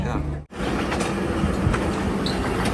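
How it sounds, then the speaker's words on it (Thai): Children's ride train at a fishery fair, rumbling and clattering steadily close by with a brief dip in the noise, faint voices mixed into the fairground bustle. "รถไฟด้วยค่ะเด็กๆนั่งค่ะ"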